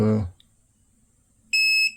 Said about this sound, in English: If we keep continuity, it beeps at us and lights the screen green.